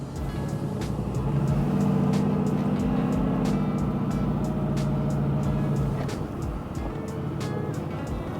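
Rear-wheel drive Porsche GTS pulling away through snow, a steady engine drone with a low throaty surge that swells and eases over several seconds, with crunching and hissing from the tires throughout.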